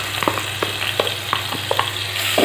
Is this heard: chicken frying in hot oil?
yes